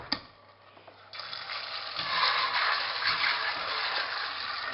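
Kidney beans are being rinsed in water as a home cook washes them before making Jamaican rice and peas, with a steady close swish and slosh that grows louder and keeps going after the first second.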